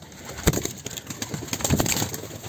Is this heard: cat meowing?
no